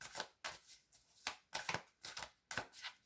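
Tarot cards being shuffled in quick, crisp riffling bursts, about five close rustling strokes, then a card laid down, with no talk over it.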